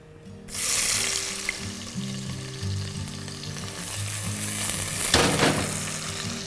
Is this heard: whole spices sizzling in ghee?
yes